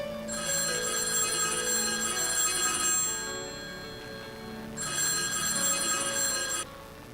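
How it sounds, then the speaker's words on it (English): A telephone rings with an incoming call, two long bursts of bright electronic trilling separated by a short pause, fairly close and clear with no talking over it. "Aya receives a phone call from the Stroudsburg ashram."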